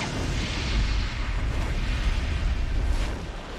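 A movie explosion sound effect roars as a dense, sustained rumble with heavy low-end boom, loud and continuous for a few seconds with no voices.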